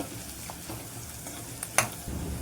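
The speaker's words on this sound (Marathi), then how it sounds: "आता का कांदा आपला व्यवस्थित असा चांगला असा तेलामध्ये फ्राय झालेला आहे" Sliced onion frying in oil in a pan over low gas while bitter gourd curry is made, a low steady sizzle with a few soft stirring scrapes and one sharper clink, close and quiet.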